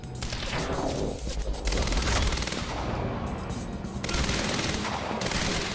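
An accurate gun fires in the video game Quantum Break, rapid bursts of shots rattling out in clusters with short gaps between, loud and up front.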